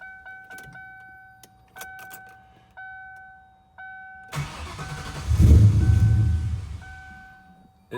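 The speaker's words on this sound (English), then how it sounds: "So let's see if we get her fired up." A Lincoln Mark VIII, started after two years in storage, gives several door chime or warning beeps and then its engine cranks and catches. It settles into a loud, rough idle close by.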